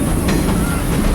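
Greenfield Village excursion train rolling along its rails, a steady loud rumble and rattle with a continuous hiss and no clear clacks, heard up close from aboard.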